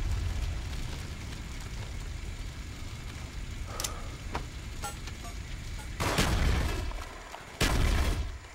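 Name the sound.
napalm strike explosions in video game Call of Duty: Black Ops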